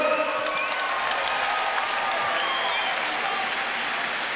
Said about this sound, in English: how about a round of applause for a great fight?